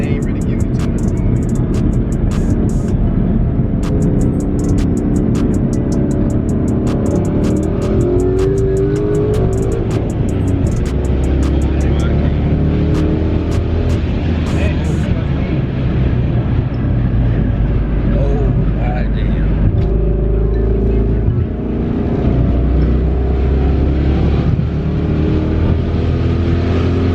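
A 1000+ hp twin-turbo Ford Mustang GT pulling in fifth gear on a highway, heard from inside as a loud, steady droning engine and road roar throughout, with someone talking over it.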